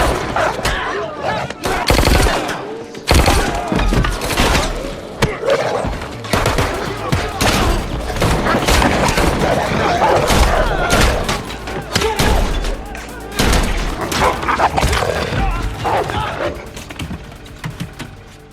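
Rapid gunfire in a John Wick action-film fight scene, loud dense bursts and single shots with thuds and impacts over a busy score, continuous for the whole stretch.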